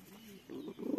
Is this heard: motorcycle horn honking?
no